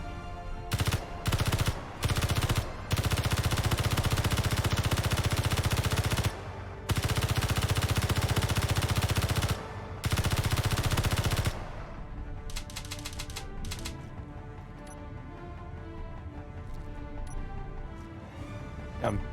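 Rapid automatic gunfire in the video game Space Engineers, loud sustained bursts broken by short gaps, then fading into quieter scattered clatter and distant shots.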